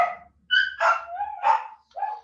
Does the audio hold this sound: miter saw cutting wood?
no